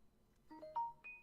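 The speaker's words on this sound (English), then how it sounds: "That's my phone." A phone gives a short, faint electronic ringtone of three rising beeps in quick succession, heard alone in a quiet room.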